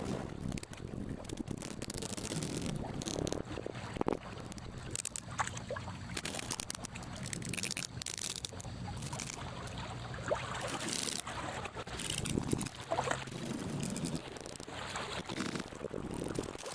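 Designed water sound layered with glitchy electronic impacts, sidechained together: a dense, continuous churning wash of splashing and trickling texture with scattered crackly bursts, fairly quiet and steady throughout.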